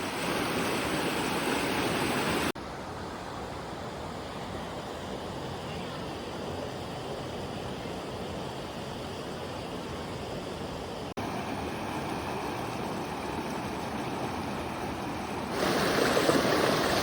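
Water rushing over a pink granite natural water slide at Castor Shut-ins in southeast Missouri, a steady close roar of flowing water that shifts level a few times.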